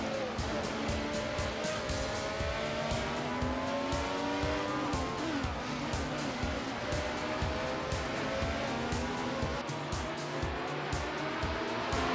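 Classic F1 race cars from an alternative F1 season racing video game, a Brabham among them, scream past in a continuous loud engine howl with shifting pitches, rapid pulsing and tire squeal, while a voice talks over the racing.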